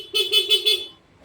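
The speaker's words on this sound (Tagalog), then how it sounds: "Pero may busina." The horn of a Honda Beat FI scooter with an unlit instrument panel gives four quick, close, nasal beeps in a row before falling silent.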